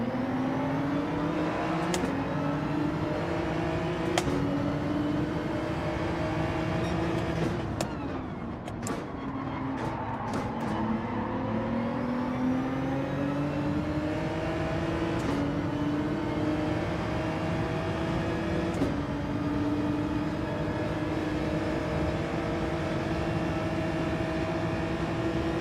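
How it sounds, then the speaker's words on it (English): Continuous engine roar of several racing cars in Gran Turismo 7, revving and shifting pitch, with occasional sharp knocks of impacts scattered throughout. "All I can hear is cars getting hit."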